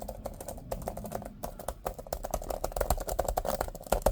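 Rapid, steady typing on a Surface Pro 2017 keyboard deck, a dense run of close, crisp key clicks continuing throughout with no talking.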